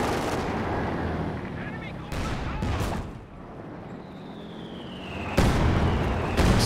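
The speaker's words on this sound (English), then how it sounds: "It's a heavy mortar strike from the officer there." Heavy mortar shells land in a Company of Heroes 2 battle, a run of booming artillery impacts and dense gunfire, loud and close, with sharp blasts near the start and again toward the end.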